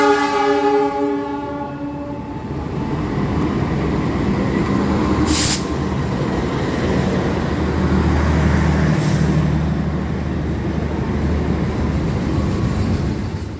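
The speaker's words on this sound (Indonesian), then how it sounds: "Yang akan masuk di jalur 3 menyusul dari arah belakang kita ini ada kereta api Malabar dari Bandung menuju ke Malang." At Kutoarjo station the Malabar train from Bandung to Malang rolls in on track 3, opening with a long horn blast, then a loud, steady wheel and engine rumble with a couple of sharp hissing bursts.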